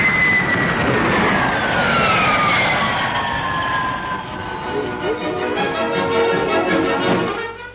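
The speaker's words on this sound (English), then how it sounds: "the world-famous long-range jet airliner de Havilland Comet has a cruising speed of 490 miles an hour" A de Havilland Comet jet airliner passes overhead, a loud turbine roar with a whine that sweeps downward in pitch and fades slightly toward the end.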